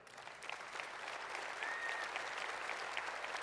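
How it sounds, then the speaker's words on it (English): A keynote audience in a large hall claps steadily and fairly faintly, sustained applause with scattered individual claps rising slightly throughout, with no voices. "So please give a huge round of applause for Deb Gismondo from NBC Universal"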